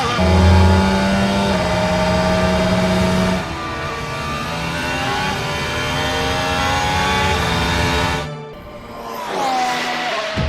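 Formula 1 cars race in the F1 2021 video game, loud high-pitched engine whine with rising and falling gear-shift tones as cars close in and pass, ending in a brief dropout and a fresh rev.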